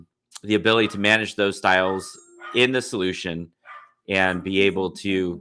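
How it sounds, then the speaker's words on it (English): A dog barks intermittently in the background of a live webinar, faint and partly masked beneath steady close-up speech from a presenter talking throughout. "Apologize for the dog barking in the background"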